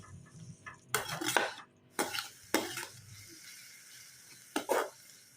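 Tomato pieces and tamarind fry in a pan for a yellow cucumber peanut chutney, with a few separate bursts of spatula stirring and scraping over a quiet low sizzle, each stroke close and brief.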